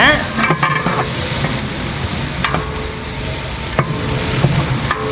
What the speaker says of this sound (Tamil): எட்டு கிலோ பெரிய வெங்காயம் வந்து கட் பண்ணி வச்சுட்டு சேர்த்தியாச்சு நல்லா மிக்ஸ் பண்ணிக்கலாம்